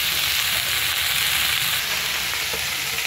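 Fiddlehead fern with potatoes and chickpeas fries in a pan with a steady, loud, hissing sizzle throughout, close up and with no voices.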